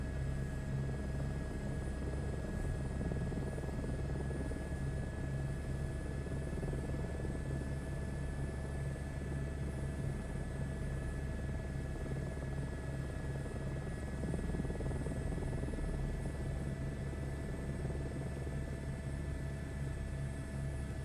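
A helicopter flown in Microsoft Flight Simulator 2024 keeps up a steady, loud rotor drone with a constant engine whine, unbroken and without talk for the whole stretch.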